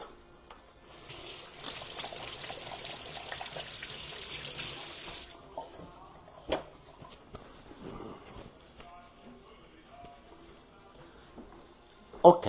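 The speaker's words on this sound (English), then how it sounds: "now let me wash my hand a little bit" Hands being washed under a running kitchen tap, a steady broadband water rush that lasts about four seconds and then stops, followed by quieter clatter and handling sounds, with a voice speaking faintly in the background.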